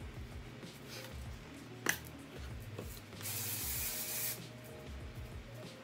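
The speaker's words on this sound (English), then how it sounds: "This is a stronghold hairspray" Short aerosol bursts of stronghold vegan hairspray hiss close by in a quiet room, the longest spray lasting about a second, with faint handling rubs and a small click around it.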